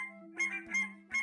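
A strange bird shrieks and squawks beside a lake in the Tasmanian Gateway, giving three quick, honking, goose-like calls in a row, close and clear against a faint low hum.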